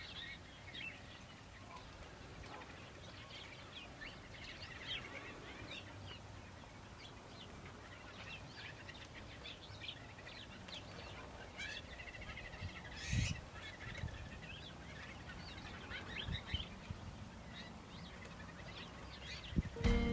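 Birds calling outdoors in spring, with many short chirps and calls scattered across the scene at moderate distance, a few louder calls near the end, and no talking.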